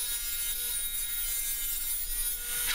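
Wooden table leg pieces being cut on a power saw with a tapered jig, a loud continuous high whine and rasp that holds steady throughout.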